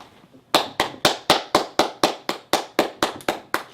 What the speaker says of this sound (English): Yes, clapping's not necessary.